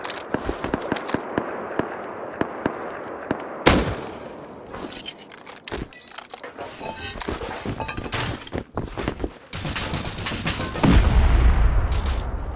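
Gunfire during an offline raid in the survival game Rust, with dense bursts of close shots, sharp cracks and thuds scattered throughout, a heavy boom near the start and a louder rumbling stretch at the end.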